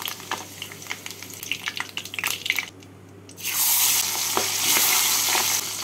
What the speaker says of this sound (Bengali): আলুগুলোকে তুলে নিয়ে এই তেলের মধ্যে মাছগুলোকে ভেজে নেব।